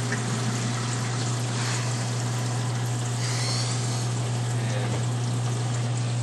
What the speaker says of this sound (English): You can hear the water sucking down because the pump's off.